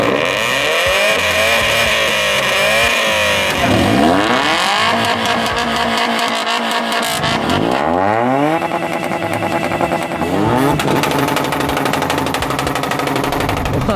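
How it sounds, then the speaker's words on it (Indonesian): Loud car exhaust revving repeatedly at a car contest in Pekanbaru, several sharp rising and falling revs from close range over a steady rumbling engine drone, with no talking. "alat yang bisa membaca seberapa besarkah suara dari si knalpot mobil tersebut."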